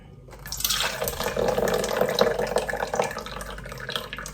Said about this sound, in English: hopefully the apple and celery juice will pour into the juice cup